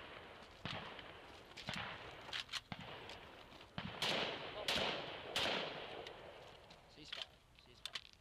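An AMD-65 rifle fires a string of loud, sharp gunshots spaced unevenly about a second apart, several in quick succession, with someone talking between and under the shots.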